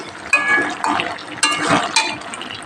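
A metal lid lifts off a pot of simmering drumstick and potato chorchori, several bright clanks and ringing scrapes close by over a soft bubbling background.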